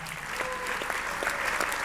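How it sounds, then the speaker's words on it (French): Brief applause from an audience at a small-business trophy ceremony honouring an award-winning artisan, a short, fairly faint patter of clapping with a faint tonal sound running beneath. "On va l'applaudir bien évidemment"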